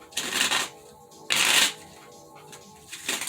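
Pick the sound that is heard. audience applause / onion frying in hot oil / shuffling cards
shuffling cards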